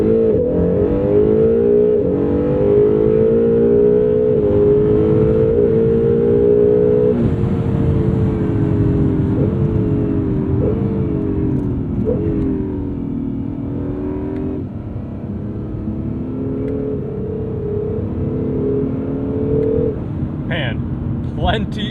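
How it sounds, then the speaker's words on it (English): A twin-turbo sports car engine revs and accelerates up through the gears in sport or track mode, its tone rising and dropping with each shift, loud and close. "Also love the sound the engine makes when you get to Sport Plus or track mode."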